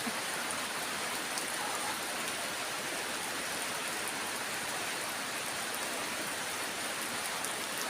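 Heavy rain falls steadily in Korat, a constant dense hiss of drops on surfaces that holds even throughout, moderately loud with no voices.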